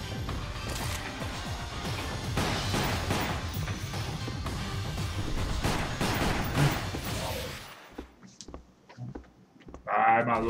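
Rapid, dense gunfire and crashing blasts from the Wii shooter Resident Evil: The Umbrella Chronicles pound on for about eight seconds, then drop to sparse hits and game sounds.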